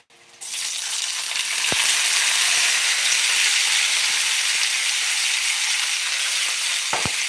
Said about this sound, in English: The wok is smoking. Wok's going. And we'll throw these vegetables in there.